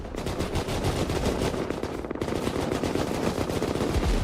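Cannons fire in a chaotic video game battle on Albion, a dense, continuous barrage of rapid booming shots with no pause, loud and close, and no voices.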